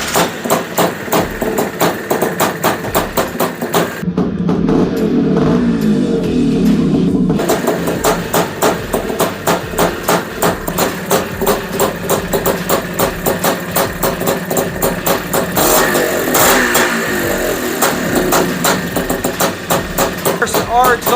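Honda Odyssey FL350 engine running and revving continuously up close, a steady loud mechanical drone that swells and changes pitch throughout, with voices talking over it.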